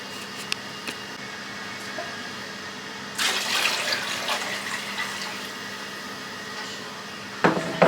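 Tap water runs for about four seconds, then trickles quietly, as water is measured out into a container in a home kitchen for a batch of okra pickles, with a short clatter near the end.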